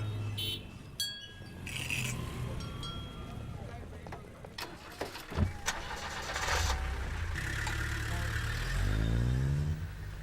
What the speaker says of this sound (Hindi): गाड़ी निकल चुकी है